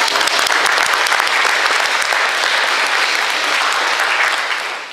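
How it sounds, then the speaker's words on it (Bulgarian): A church congregation in Asenovgrad applauds God in a loud, sustained wash of many hands clapping together, holding steady before easing off slightly at the end. "Нека пляскаме на Бога."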